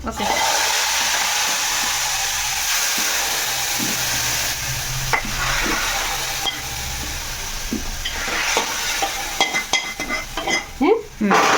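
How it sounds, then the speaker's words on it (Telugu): Mustard seeds and spices for a sambar tempering sizzle in hot oil on a gas stove that has just been switched off, a loud, steady crackling hiss with a few soft clinks and stirring sounds near the end. "గ్యాస్ బంద్ చేసుకున్నా తాలింపు వేసేసుకుంటున్నా"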